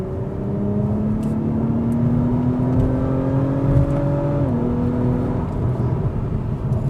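An Acura TLX Type S engine revs up steadily, its pitch climbing smoothly over several seconds before a brief shift, then continuing to whir as it accelerates.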